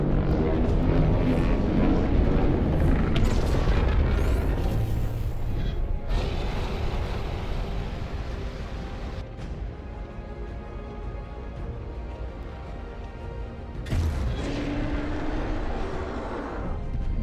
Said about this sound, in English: Beam clashing.